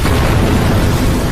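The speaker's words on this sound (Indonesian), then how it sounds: "Mendengar suara ledakan" A film explosion fills the whole stretch with a loud, dense, rumbling roar that stays steady and heavy from start to finish, with no voices over it.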